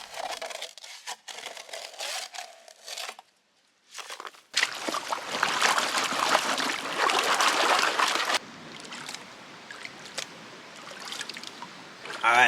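Gravel and water swirled and sloshed in a gold pan on a river gravel bar in Douglas County, Wisconsin, giving steady close splashing and trickling with gritty rattles. It turns louder and denser midway, after a brief pause.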